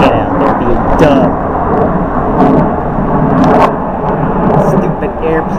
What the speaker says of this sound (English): Stupid airplane making a bunch of noise.